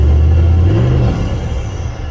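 Big-turbo Land Cruiser engine heard from inside, a loud low rumble with intake whoosh that settles and fades over two seconds, no talk.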